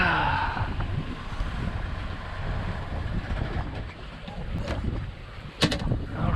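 Wind rushes across the microphone aboard a sailboat under sail off Grenada, a steady buffeting roar with water wash beneath and a few sharp knocks toward the end.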